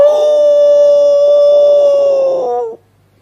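A single voice imitates a dog howling at night, holding one long, loud, close howl at a steady pitch for more than two seconds before it breaks off suddenly into near silence.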